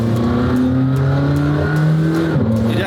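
A hypercar's engine revs loudly from nearby, a sustained throaty drone that climbs gently in pitch, then dips and picks up again near the end.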